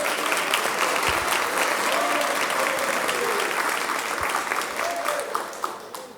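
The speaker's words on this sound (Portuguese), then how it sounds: "aplauda o Senhor Jesus." A church congregation at a convention service breaks into dense, sustained applause, many hands clapping at once with some voices mixed in, the clapping thinning slightly toward the end.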